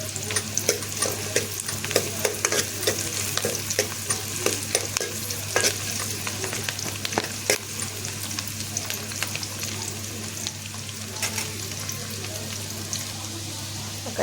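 Sliced onion, green chili and bay leaves tempering in hot oil, a steady close sizzle with frequent scraping stirs throughout, no talk.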